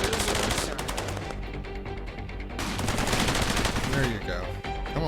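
Soldiers open fire in the RTS / tower defense video game Cepheus Protocol: dense, continuous bursts of automatic and single gunshots overlap loudly with a brief lull, then resume heavily, and a voice speaks faintly underneath.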